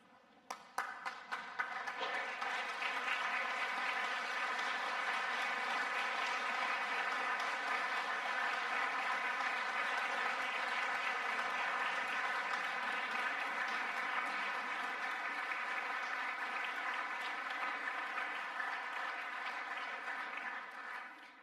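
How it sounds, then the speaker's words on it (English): Sustained audience applause at a University of Liverpool graduation ceremony, a large indoor crowd clapping steadily at full volume after a few scattered opening claps, continuing without letup. "give a round of applause for your senior officers of"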